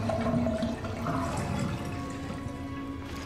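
A bathtub full of dirty water draining in Resident Evil Revelations, a steady gurgling rush of water going down the drain, close and fairly loud, easing slightly toward the end.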